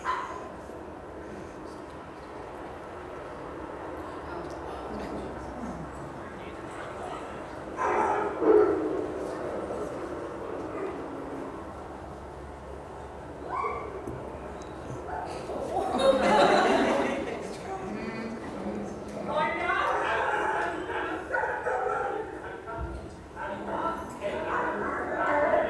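Dogs bark and whimper in a poorly managed dog-to-dog greeting during a dog introduction class, with bursts of yips and barks rising over steady background chatter and a loud flurry in the middle.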